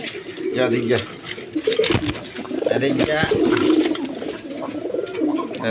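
A pair of red Gorra pigeons cooing close by, low throaty coos repeating through a busy loft with other birds and rustling, with people talking in the background throughout.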